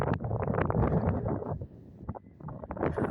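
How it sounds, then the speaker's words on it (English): Wind buffets a partly cupped microphone outdoors, giving loud, gusting low rumble that swells and dips over a few seconds, with no voice heard. "try and cup this microphone so you can hear me and not the wind"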